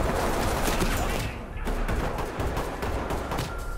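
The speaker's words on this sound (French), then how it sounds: "Oh ça canarde." Gunfire in the tactical police shooter Ready or Not comes as dense, loud bursts of rapid shots that crackle continuously, with a brief lull midway before the firing resumes.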